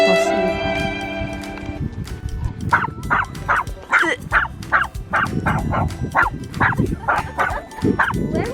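A tiny dog yaps repeatedly in a quick, steady series of sharp high barks among other dogs, loud and close, after an opening of mixed growls and whines.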